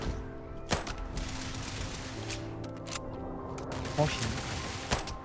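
Gunfire in the video game Starfield, a handful of sharp shots spread irregularly over a steady game soundscape, fairly loud and close, with a voice speaking briefly.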